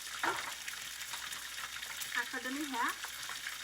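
Steady crackling sizzle of chicken legs frying in a pan, fairly quiet, with a few brief stirring and scraping sounds near the end.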